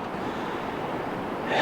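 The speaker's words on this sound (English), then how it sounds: "You can hear the river and all the kids are down here playing in the river." A river in the Lao Chai and Linh Ho valley near Sapa, Vietnam, gives a steady, close rushing wash of flowing water that swells slightly at the end of the brief moment, with no talking.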